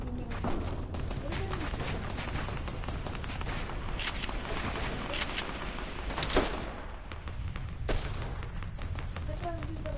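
Gunfire in Fortnite, repeated sharp shots and bursts scattered across a busy game soundscape, moderately loud, with a player talking at times.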